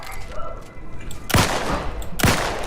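Two sharp, heavy gunshots about a second apart ring out in The Outer Worlds 2, standing out loudly over a steady rumble of in-game background noise.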